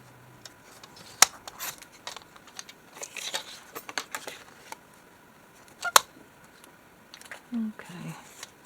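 Scissors cutting paper for a junk journal, a few short crisp snips scattered amid quiet rustling close by, with no talk over them.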